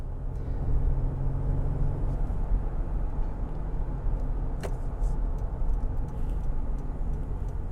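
2023 Honda Pilot TrailSport with a 3.5-liter naturally aspirated V6 on the road: a steady, low engine and road drone fills the cabin throughout, with no sharp revving and one faint tick midway.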